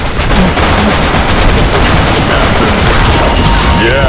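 Weapon gunfire in the shooter game BlackShot comes as rapid, loud, continuous bursts of shots with crashing impacts, dense and close throughout.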